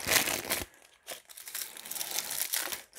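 A plastic doll accessory package is torn open up close, with quick crinkling and ripping bursts separated by short pauses, fairly quiet.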